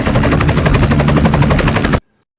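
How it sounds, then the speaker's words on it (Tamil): A noisy room fan roars loudly in a helicopter-like rhythmic whirr, a steady pulsing drone close by that cuts off abruptly into silence. "ரீசெண்டாக தான் ஃபேன் மாற்றினாங்க. எதோ வாய் அதுவும் சத்தம் போடுது. It's like helicopter."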